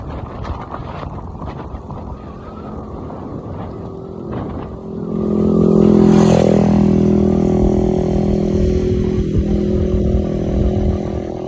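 Viar Q1 electric motorcycle riding on a road, a steady muffled rush of motion and wind noise that grows louder and fuller midway and stays sustained, with no speech.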